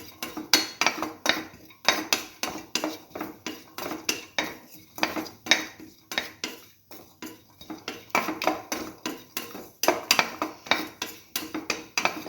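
Cashews being sautéed in a pan with salt, a utensil stirring and scraping in repeated clattering bursts of metal on pan, fairly close and steady, with no talking.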